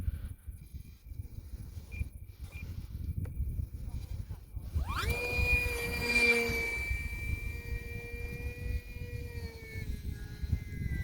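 A small E-flite UMX Timber X electric RC plane takes off at night, with a motor whine rising in pitch as it launches and then a sustained buzzing tone over a faint outdoor background.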